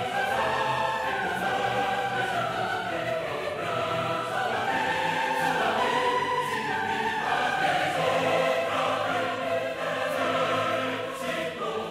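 Audio Imperia's Chorus choir library plays on its own, a dense, sustained wash of massed choral voices that swells continuously and loudly throughout, with no talking.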